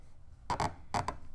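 An embroidery needle squeaks as it is forced through fabric in a dense flower section of a hand embroidery piece, two short close squeaky bursts with a brief pause between them.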